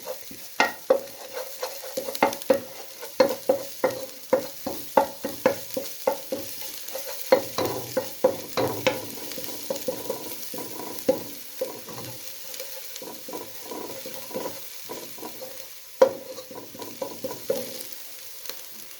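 Fish heads frying in a pan for a fish head soup, a steady sizzle broken by repeated sharp clacks of stirring and scraping, close and fairly loud with no talking.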